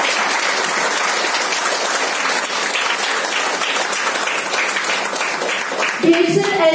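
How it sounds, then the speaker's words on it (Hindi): An audience at a women's day celebration in an office breaks into dense, sustained applause that holds steady throughout, with a voice starting to speak near the end. "तालियां।"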